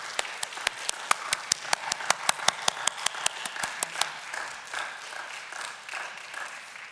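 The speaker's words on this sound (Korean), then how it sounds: "여기 나오실 때까지 베델의 박수로 힘차게 끊임없이 격려해 주셨으면 감사하겠습니다." A church congregation at a Wednesday service applauds a returning missionary: crisp, rhythmic claps ring out nearby in a steady beat, then thin into softer, scattered clapping and room murmur toward the end.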